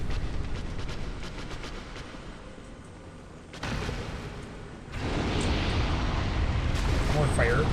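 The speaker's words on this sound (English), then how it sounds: "More fire because Chaos Witch Leg loves her fire." Roaring fire attacks from Chaos Witch Quelaag in the PC version of Dark Souls, with rumbling blasts that surge loudly around the middle and swell into a sustained, dense roar toward the end.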